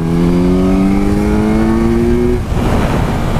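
A 2017 Kawasaki Z900 motorcycle accelerating hard in fourth gear, its engine note rising steadily and loudly up close, then a brief gear change and continued engine roar with wind noise.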